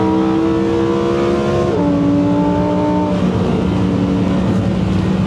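A car with cold tires accelerates hard but not at full throttle, its engine note climbing through gears with a shift change midway, a loud, close, steady roar.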